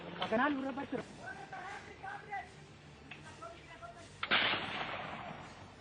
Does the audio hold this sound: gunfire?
yes